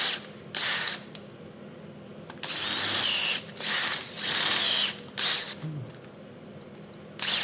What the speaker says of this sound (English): So we'll get that drilled out.